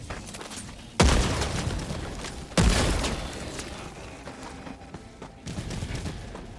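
Grenade blasts and gunfire in the video game Helldivers 2: two loud booming bursts a second or so apart, each trailing into rumbling noise, then a weaker burst near the end.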